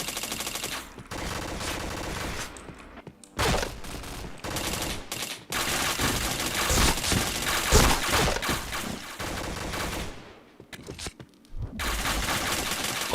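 Gunfire in a video game shooter, dense rapid bursts of automatic fire that are loud and continuous, broken by a few short pauses.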